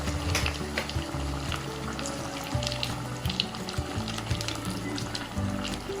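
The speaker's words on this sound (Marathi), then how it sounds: "आणि ह्याला आपण आता तळून घेऊया. आपलं तेल चांगलं गरम झालेलं आहे." Bread vada deep-frying in hot oil, a dense, continuous crackling sizzle that stays loud and busy from start to finish, with no voices over it.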